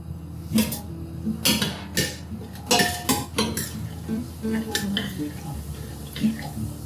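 A teaspoon of cumin seeds going into hot ghee in a pan for dhaba-style sabut urad mash dal, with loud, irregular metal clinks and clatter of spoon and pan in several bursts over a faint background.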